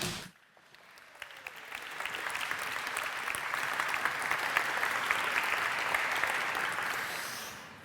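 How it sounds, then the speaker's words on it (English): Sustained applause from a conference audience for Jennifer, starting after a brief pause, swelling to a steady dense clapping and holding through to the end without talk. "I don't know how you follow up the applause for Jennifer"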